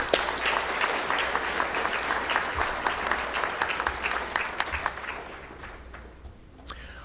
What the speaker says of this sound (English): One last time, round of applause for Robin.